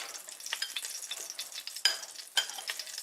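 Green tomatoes fry in a hot pan on a stovetop burner, giving a steady crackling sizzle with a few sharper pops and spatters, close and alone.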